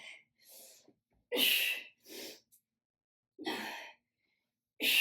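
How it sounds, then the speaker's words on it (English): Heavy, breathy exhalations come in about five or six separate bursts while a kettlebell is swung during a strength workout. Each breath is close and fairly loud, with short silent gaps between them. "You're gonna hear me breathing heavy because this sucker's heavy."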